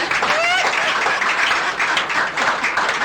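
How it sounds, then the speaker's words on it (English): A studio audience on a Nigerian talk programme gives a woman a dense, continuous round of applause, steady and fairly loud throughout, with a brief voice rising over it at the start. "Make una clap for her."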